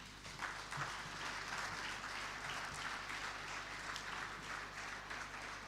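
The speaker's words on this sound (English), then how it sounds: "thank you for making it a standing ovation" An audience at a Nigerian environmental health awards ceremony gives a standing ovation, with dense, steady applause from many hands filling the hall for several seconds, heard from a distance at a fairly low level.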